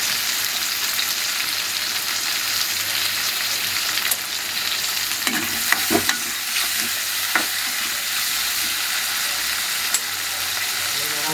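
Tomatoes sauté in a frying pan alongside ginger for a potato masala gravy, giving a loud, steady sizzle throughout and a cluster of scraping stirs and clatters near the middle.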